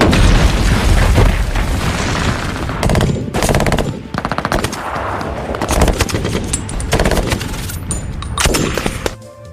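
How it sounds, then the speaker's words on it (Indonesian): Automatic weapons firing in a battle scene from the film 13 Hours, dense rattling bursts of gunfire with heavy booms and explosions, loud and continuous with brief gaps. "membalas serangan mereka dengan menghujani rentetan tembakan peluru dari senjata otomatis mereka ke arah para separatis"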